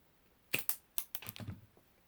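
Scissors or shears snip the ends off wooden popsicle sticks in about six quick, close, crisp cuts and cracks in a short burst, with quiet between and no talking.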